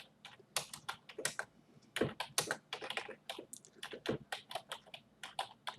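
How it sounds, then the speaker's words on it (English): Keys clatter on a computer keyboard in quick irregular bursts with short pauses, close and fairly quiet, with no voices. "Go ahead and type a little message right here."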